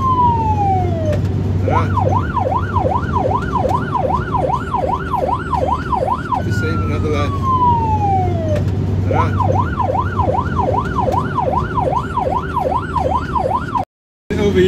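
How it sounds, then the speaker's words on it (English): A loud ambulance siren, responding to a call, wails and sweeps up and down in repeated cycles, with a quick cut of silence near the end; a brief voice is heard. "the siren is on only to save another life"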